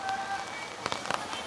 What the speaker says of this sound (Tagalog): super lakas talaga ng ulan.